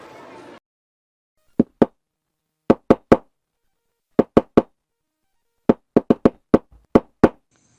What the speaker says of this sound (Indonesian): Suara ketukan pintu dari luar rumah